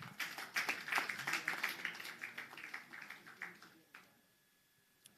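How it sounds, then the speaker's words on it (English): An audience claps at a launch event, a burst of dense applause that gradually thins out and fades to near silence. "if you can give a round of applause to Ahuna Eziakonwa to give the call to action"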